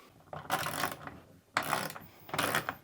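Socket wrench with an extension ratcheting a 13mm nut loose on a Beretta 1301 shotgun, three short bursts of close clicking with brief pauses between.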